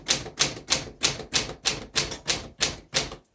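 Typing on a 1936 Corona Standard manual typewriter: about ten sharp, evenly spaced keystrokes, each a loud close clack with a brief decay, in a steady rhythm with no voices.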